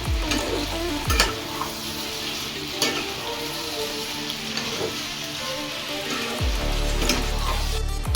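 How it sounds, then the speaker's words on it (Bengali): Mutton keema ghugni with potato and chickpeas stirred in a pan, a steady sizzle under repeated scraping strokes of a spoon and the occasional metallic knock against the pan. "এবার একটু নেড়ে নেবো।"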